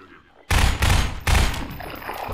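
Loud bursts of automatic rifle fire from the video game Half-Life 2, two long rattling volleys starting sharply and then trailing into continued noisy shooting.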